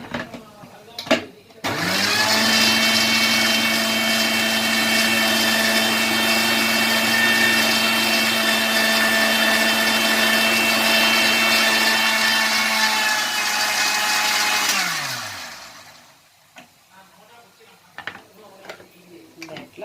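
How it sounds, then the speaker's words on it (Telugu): Mixer grinder whirring loudly and steadily for about thirteen seconds as it grinds soaked grains with water for idli batter, then spinning down to a stop. "నేను ఇంకా కొన్ని నీళ్ళు వేసి కొంచెం మిక్సీ వేస్తాను"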